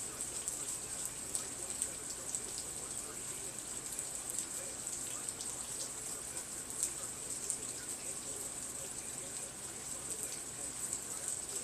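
Steady rainfall hissing continuously on surfaces outdoors, even and moderately faint, with no distinct drops standing out.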